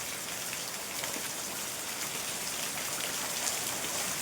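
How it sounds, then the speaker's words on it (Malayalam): Heavy rain pours down in a dense, steady hiss that stays close and even throughout, with no voices over it. "ഇപ്പോൾ കുറച്ചുകൂടെ കൂടിയല്ലേ ഗൈസ് മഴ"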